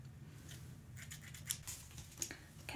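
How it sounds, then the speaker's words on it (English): Scissors cutting into the packaging of a Gaming Heads Elizabeth figure from Bioshock, with quiet close snips, scrapes and light rustling of cardboard and tape, a few sharper clicks standing out, no talking. "Okay, I've got my handy dandy scissors here."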